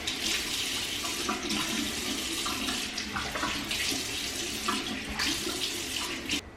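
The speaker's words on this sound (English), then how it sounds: "So you want to rinse all of the mask off." Water runs steadily from a tap into a sink while a face mask is rinsed off, a continuous close splashing rush with slight shifts as hands move through the stream, and no talking.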